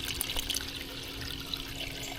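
Water drains steadily into a catch basin, a faint, continuous trickling and rushing wash with no voices over it.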